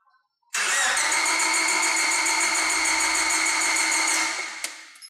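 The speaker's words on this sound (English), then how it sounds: "let's crank it again." A car engine is cranked by the starter for a relative compression test, whirring steadily and loudly for about four seconds without catching, then stopping.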